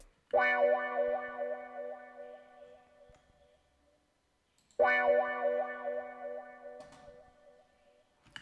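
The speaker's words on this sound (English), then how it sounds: "So this is what the wah sound like." Two identical sustained synth notes with a wobbling wah sweep and light studio reverb, each ringing for about three seconds before fading, separated by a short silence; made in BandLab.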